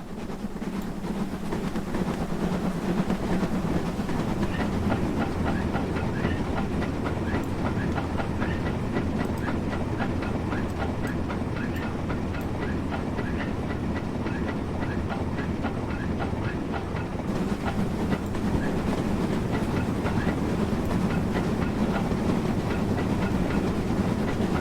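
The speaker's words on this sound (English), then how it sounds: "Still trying to get steam back into the engine." A steam locomotive runs along the Furness Line near Grange-over-Sands in Train Simulator 2020, with a steady rolling clatter of wheels on rail joints and a soft steam hiss. The sound carries on without a break, and no one speaks.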